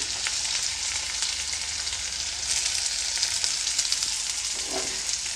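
Chopped onion frying in oil with mustard seeds and cumin for kadalekalu usli, a close, steady sizzle with light stirring scrapes toward the end and no talk.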